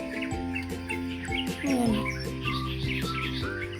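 An unidentified bird near a corn field at harvest time gives repeated short chirps and tweets close by, with a brief spoken word in the background.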